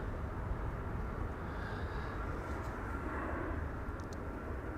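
A jet engine spools up at Amsterdam Schiphol Airport as a steady, broad roar that holds at even loudness from a distance, with no voices over it.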